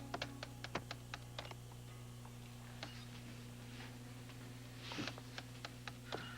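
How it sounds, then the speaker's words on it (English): Someone types hard on a computer keyboard, sharp key clicks landing irregularly in small clusters over a steady low room hum, fairly faint and with no voices. "Hit those keys any harder, they're gonna break."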